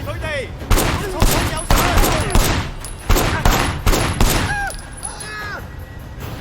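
Rapid gunfire in the Sleeping Dogs Definitive Edition video game, a series of loud sharp shots in irregular bursts with ringing, whistling effects between them, up close.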